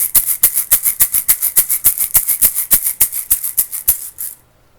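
Kashaka hemp shakers rattling in a fast, steady rhythm, roughly twenty crisp bright shakes in quick succession, close and loud and alone, before stopping abruptly.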